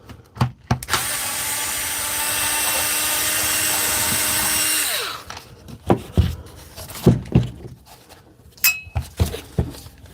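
A power screwdriver whirs steadily for several seconds, backing screws out of a Dewalt power tool, then winds down into a run of clicks, clatters and small handling knocks up close.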